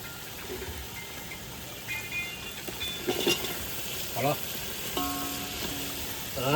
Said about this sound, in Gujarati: ગુમલાના બટકા નાખી દઈએ ઘડીક વાર આપડે પકાવવા દઈએ